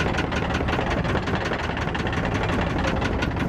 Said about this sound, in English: let the engine warm up